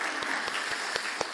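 A church congregation claps during a Korean Thanksgiving Sunday worship service, a brief burst of steady applause with a few sharper individual claps standing out.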